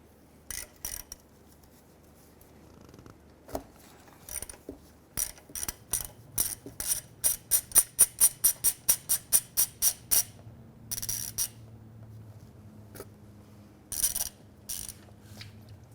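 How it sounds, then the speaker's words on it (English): A ratchet loosens the 17mm oil drain plug bolt on a Hyundai Sonata, with bursts of sharp clicking, including a steady fast run of clicks in the middle, then scattered clicks near the end, with no talking. "so we're going to take out our bolt now"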